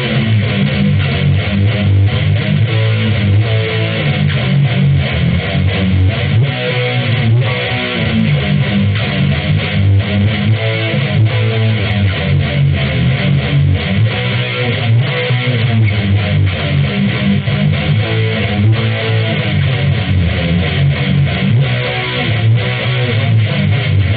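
Loud, distorted electric guitar plays a fast riff with chugging palm-muted notes, a dense and driving thrash rhythm that runs continuously and close up without any talking.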